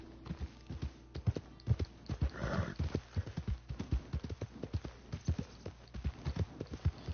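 A horse galloping in Red Dead Redemption 2, steady rhythmic hoofbeats on the ground throughout, with a brief whinny partway through and no talking.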